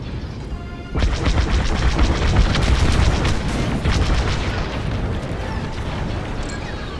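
A starfighter in Star Wars: Squadrons takes fire, a sudden loud rush of blasts and crashing impacts over a roaring engine drone, pounding steadily for several seconds before easing slightly.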